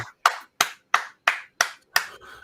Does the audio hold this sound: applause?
yes